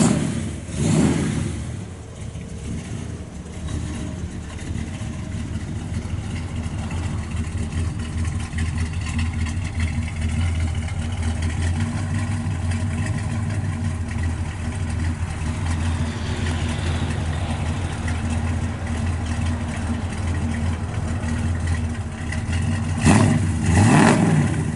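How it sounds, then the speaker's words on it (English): A 1967 Chevrolet Chevelle SS 396 V8 with a mild cam rumbles through its exhaust, a close, steady idle lump broken by throttle blips and revving at the start and the end, with no talking. "Sounds real good out the exhaust."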